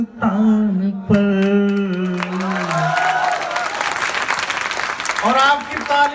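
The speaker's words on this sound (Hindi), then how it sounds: "और आपकी तालियां घनघोर होती जाएंगी" A crowd applauds and cheers at a motivational speaking event, loud and sustained, with a speaker's voice ringing out over the clapping at the start and again near the end.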